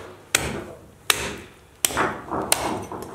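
Local chicken meat is chopped in four sharp, loud blows spaced about a second apart, each with a short thudding decay.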